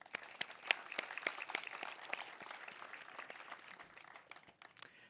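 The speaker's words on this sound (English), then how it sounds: "Let's give her another round of applause." Sparse, faint scattered clapping from an outdoor crowd at a Memorial Day ceremony in Moreno Valley, individual claps standing out in an uneven patter that thins toward the end.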